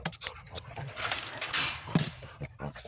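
An old coon dog pants rapidly and huffs up close, a rough breathy rhythm with faint shuffling behind it.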